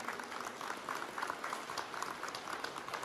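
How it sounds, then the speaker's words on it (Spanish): A crowd at a civic anniversary ceremony with a parade in El Quelital, Guadalcázar, applauds in a dense, steady patter of many hands clapping, heard from a distance, fairly quiet, lasting about three seconds. "Fuerte el aplauso, por favor."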